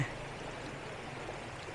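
Water from a Blue Lagoon waterfall at Penang pours and streams in a steady, broad rush, close and continuous with no voices over it.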